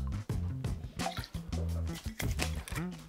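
Sfumato Rabarbaro liqueur poured from a bottle into a metal measuring jigger, a close, steady glugging stream with rising gurgles that stops and starts over about three seconds.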